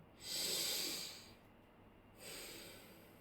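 Two slow, heavy breaths, a long airy exhale followed by a shorter one, close to the microphone and fairly quiet, with no talking.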